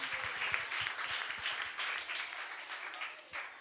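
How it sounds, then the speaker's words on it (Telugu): A gathering claps together after a Christian wedding anniversary prayer, steady, fairly soft applause from a small group that carries on for several seconds before easing slightly. "గట్టిగా చప్పట్లు కొట్టి మనం అభినందిద్దాం."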